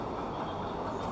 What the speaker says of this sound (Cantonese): 要小心嗰啲電車。